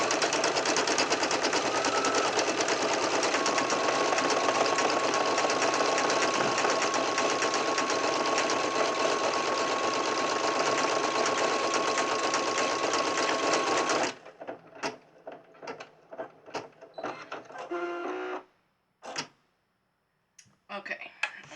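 A sewing machine stitches down a pocket on a fabric hippo crayon holder, running fast and steady for about fourteen seconds before breaking into short stop-start bursts and clicks, close and loud with no voices.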